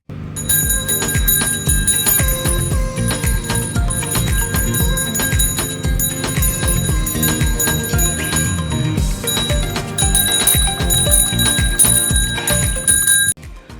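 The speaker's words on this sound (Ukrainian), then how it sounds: "Ось і пролунала у новому навчальному році чарівна мелодія дзвоника" A school bell on the first day of the school year rings continuously and loudly for about thirteen seconds in a steady rapid jangle, then cuts off abruptly.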